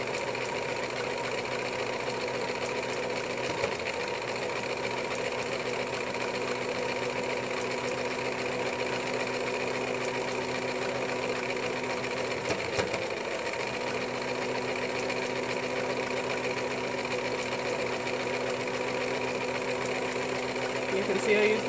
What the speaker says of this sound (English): So now the presser foot is even with that last row of stitching.